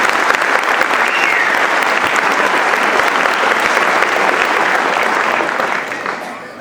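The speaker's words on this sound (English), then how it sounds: "So would you please give them a quick round of applause?" Audience at a third-grade chorus concert applauding, loud dense clapping from a large crowd held steady for several seconds before tapering off.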